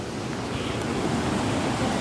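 Strongly flowing water at the Panchulingeswar shrine, a steady, loud, broadband rush with no pauses, close to the microphone and with no voices over it.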